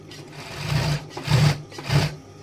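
Sewing machine stitching the waistband lining of women's shorts: three loud, steady motor bursts of whirring stitches with short pauses between them, close and alone.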